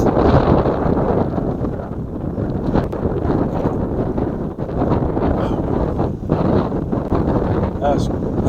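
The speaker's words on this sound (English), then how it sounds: "Super windy." Strong wind on a mountain top by a remote fire tower in British Columbia buffets the microphone in loud, continuous gusts, rumbling and roaring nearly without pause; voices are partly audible beneath the blasts.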